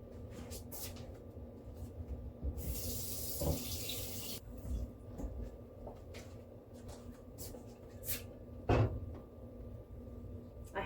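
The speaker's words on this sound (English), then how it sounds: "I have a filter on my faucet and it takes forever for it to fill up a 40-ounce thing." A filtered kitchen faucet runs into a 40-ounce water container for about two seconds as a soft, steady hiss, with quiet clatter and knocks around it in a calm room.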